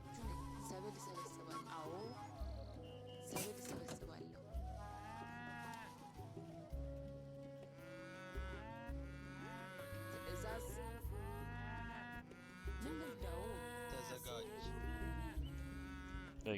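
Cattle lowing in the Age of Empires III strategy game, repeated moos spread through the stretch over steady game music and ambience.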